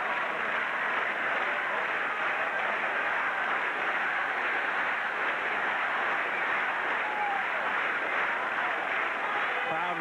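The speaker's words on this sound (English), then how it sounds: "Crowd with the rhythmic clapping." A crowd at a Roland Garros tennis match in 1993, on court number 1, claps in a continuous dense roar filling the stadium.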